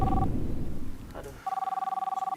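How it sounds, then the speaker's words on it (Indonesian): An incoming call on a telephone sets off a steady electronic ring, a rapid pulsing tone that starts after a stretch of muffled background sound and then carries on loud and clear without pause. "Gak lama kemudian datang telepon masuk."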